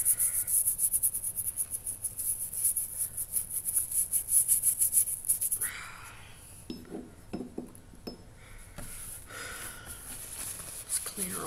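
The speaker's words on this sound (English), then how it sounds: "Scrubbing real nice." A rusty knife blade being scrubbed clean, rapid rhythmic rasping strokes up close for about six seconds, then scattered clinks and light scraping.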